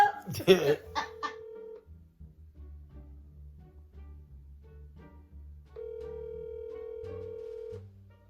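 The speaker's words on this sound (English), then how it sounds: "Like, Mario, try call back Tamika." Telephone call tones: a brief burst of voices and clatter, then a sustained steady tone, quiet intermittent sounds, and a second long flat tone near the end, with a low hum beneath.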